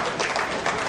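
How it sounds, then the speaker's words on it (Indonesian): A crowd at an evening award event gives the winners a burst of applause, dense continuous clapping filling the whole brief moment at close range. "Tepuk tangan buat para pemenang."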